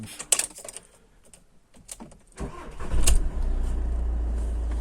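A Volkswagen T6 van's engine starts after a few clicks and button sounds inside the cab, cranking briefly and catching into a steady, loud close idle.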